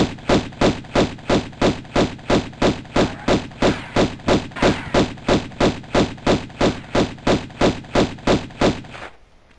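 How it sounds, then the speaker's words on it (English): Rapid, evenly spaced gunshots fired at Pierre DuPont in the PlayStation 1 Tomb Raider game, St. Francis' Folly level. About two dozen loud, punchy shots come in a steady rhythm with no talk, then stop abruptly near the end. "Can't kill him, you just got to shoot him enough so that he runs away."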